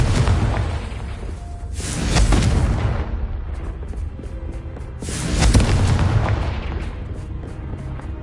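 The Confringo fire spell in Hogwarts Legacy on PS5 goes off as two loud, heavy booming blasts a few seconds apart, each rumbling over a continuous noisy game background.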